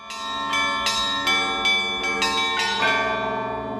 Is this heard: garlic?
no